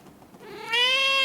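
A cat gives a single rising, drawn-out meow that starts softly and swells to a loud, clear, harmonic cry close to the listener.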